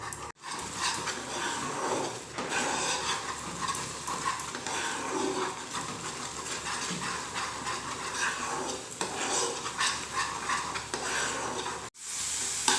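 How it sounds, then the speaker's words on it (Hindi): Milk powder mixture thickening in a pan over medium-low flame, stirred continuously with a steady scraping and sizzling texture that runs close and unbroken, pausing briefly near the start and end. "मिल्क का पाउडर डालने के बाद इसे चलाते हुए गाढ़ा कर लेना है, कुक कर लेना है।"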